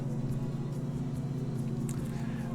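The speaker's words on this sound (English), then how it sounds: "And we get real tractor sounds now." A tractor engine in the Farming Simulator 22 video game drones steadily at a low, even pitch, a continuous mechanical hum with faint clicks on top and no break.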